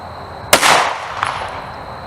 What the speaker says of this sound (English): we have two shots, both of them Corbon DPX, 115 grain 9mm